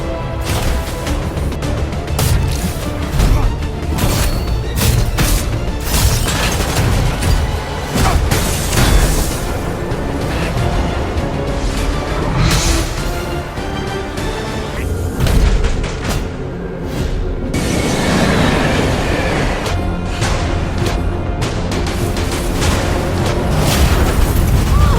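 Film sound effects of a train breaking in two in a sci-fi action film: a dense, sustained roar of crashing, booming impacts and rumbling debris, loud and continuous for the whole stretch with no speech.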